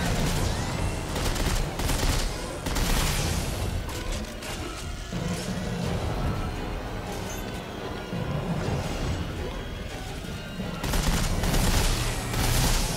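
Weapon alternate fire in the Dead Space 3 video game: dense, continuous rapid gunfire and crashing impacts fill the whole stretch at a steady, loud level, with brief heavier bursts near the start and end.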